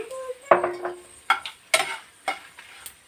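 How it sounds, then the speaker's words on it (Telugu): Dried red chillies and coriander seeds are roasting in a dry pan while a spatula stirs them. Scrapes and light clinks come in irregular bursts over a faint crackle, close by. "ఎండుమిర్చిలో కొంచెం ధనియాలు వేసుకుంటే ఇవి పూర్తిగా బాగా వేయించుకుందాం"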